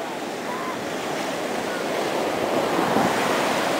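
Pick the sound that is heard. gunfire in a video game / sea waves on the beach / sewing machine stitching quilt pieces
sea waves on the beach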